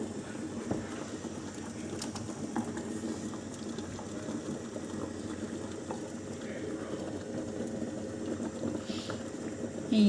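A thick butter chicken sauce thinned with fresh milk bubbles in a pot, a soft, steady simmer with small pops and faint clinks throughout. The sound is low and continuous, and no one speaks.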